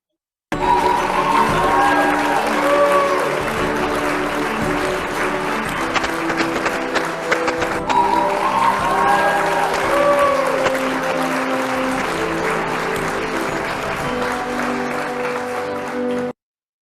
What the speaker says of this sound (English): A big round of applause from Startup Grind Kanyakumari chapter.